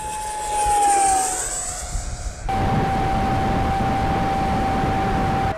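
An RC rocket plane making a high-speed run overhead, a loud tearing jet-like roar with a piercing steady whine that shifts in pitch as it passes, followed by a sustained noisy rush, no voices.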